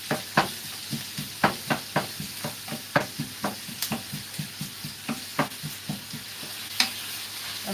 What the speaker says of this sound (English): You're gonna fry your onions until it's nice and golden in color